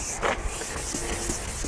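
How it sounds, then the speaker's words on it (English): A plastic car headlight lens is sanded by hand during restoration, a steady close rasping rub with soft repeated strokes and no talk. "You gotta sand the whole thing until that one spot's gone."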